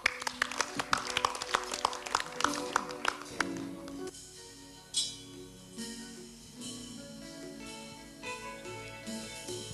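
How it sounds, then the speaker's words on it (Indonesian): An Indonesian small-business event audience applauds as a singer is called up: a few seconds of scattered, fairly close handclaps that give way to instrumental music starting up. "kita berikan tepuk tangan"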